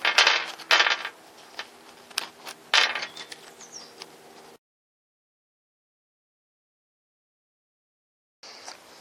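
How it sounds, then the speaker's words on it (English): Plastic puzzle pieces of a Slice Megaminx prototype with gears clicking and clattering as it is taken apart, a few sharp close knocks and rattles, then silence before a faint sound returns at the end. "maybe I should disassemble a little bit more to give you a better view of"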